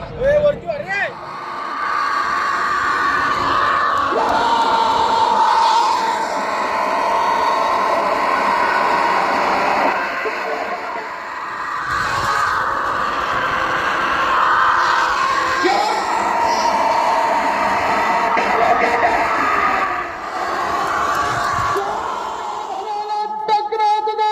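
A dense crowd roars and yells steadily at a bullock cart race on a ghat in Maval-Mulshi taluka, a loud continuous din with an excited voice talking over it throughout.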